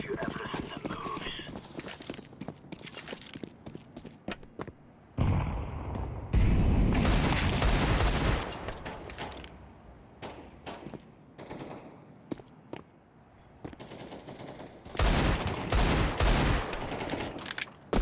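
Gunfire during a Counter-Strike match, with bursts of loud automatic shots recurring in several clusters over the span, mixed with other game noise while players talk intermittently.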